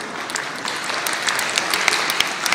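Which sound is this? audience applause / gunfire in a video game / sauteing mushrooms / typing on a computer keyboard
audience applause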